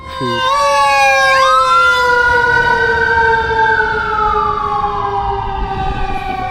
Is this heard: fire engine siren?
yes